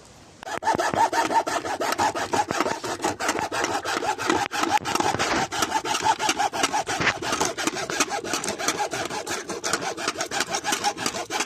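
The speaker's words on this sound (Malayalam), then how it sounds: "കുറച്ച് കഷ്ടപ്പെട്ടിട്ടാണെങ്കിലും ആക്സോ ബ്ലേഡിന് കട്ട് ചെയ്ത്" A hacksaw blade cuts through a sheet being trimmed to size for mounting an ELCB and MCB, making steady, rapid back-and-forth rasping strokes that run close and loud almost without pause.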